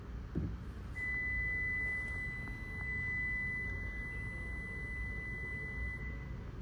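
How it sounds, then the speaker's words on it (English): A 2025 Toyota RAV4 Hybrid sounds a single long, steady electronic beep for about five seconds, warning that the keys are inside and it is not locked, thin and piercing, against faint outdoor noise. "That long beep is warning you and telling you to not leave yet because your vehicle's not locked"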